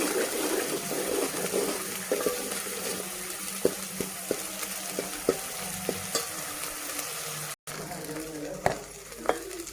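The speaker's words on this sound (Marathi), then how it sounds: "चला एका चमच्याच्या फळ्याने हलवून व्यवस्थित परतून घ्यायचे" Ground masala paste of ginger and coriander sizzles as it fries, with a spoon knocking and scraping against the pan in a loose repeated rhythm over a steady close hiss.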